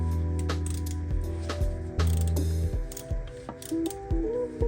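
A hand ratchet snugging oil pan bolts on a Toyota 86 / Subaru BRZ during an oil pan baffle install, giving several quick clicking bursts of pawl ticks at close range with short pauses between, no voices.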